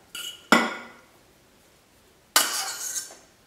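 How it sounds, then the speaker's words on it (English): Two sharp clinks of a utensil or food landing against a mixing bowl while potato is added to a vegetable mix, each ringing briefly and fading, with quiet between them. "And now I'm just going to add my potato to this bowl as well."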